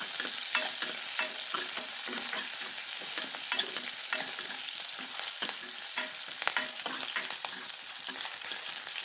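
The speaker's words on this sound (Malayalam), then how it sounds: "നമ്മൾ അരിഞ്ഞു വെച്ച ഉള്ളി, പച്ചമുളക്, കറിവേപ്പില എന്നിവ ചേർത്ത് നന്നായി ഒന്ന് ഇളക്കിയെടുക്കുക" Chopped onion, green chilli and curry leaves fry in oil for rasam while a spoon stirs them, giving a soft continuous sizzle dotted with frequent light scrapes and clicks, close and fairly quiet, with no voices.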